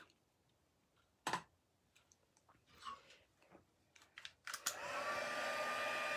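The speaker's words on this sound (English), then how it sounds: "what the heat tool is doing is melting that powder and turning it shiny and a tiny bit three-dimensional" A heat tool switches on to melt embossing powder after a few light taps and clicks, then blows as a loud steady whirring rush that continues to the end.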